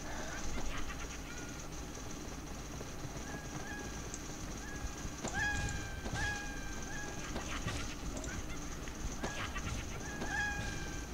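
Chickens clucking and squawking in the video game PUBG Mobile, a string of repeated short bird calls over a steady low background hum, moderately loud and continuous.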